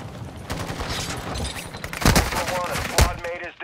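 Bursts of gunfire in the game Call of Duty DMZ, with sharp loud cracks near the two- and three-second marks over ongoing game noise and background talk.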